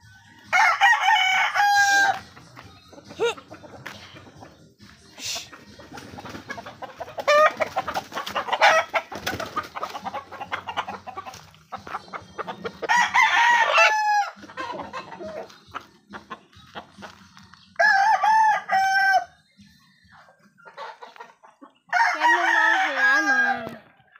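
Backyard chickens clucking and squawking in repeated close, loud bursts, with rooster-like calls among them and quieter rustling between.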